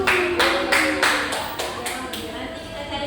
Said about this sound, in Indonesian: Beri tepuk tangan dulu buat.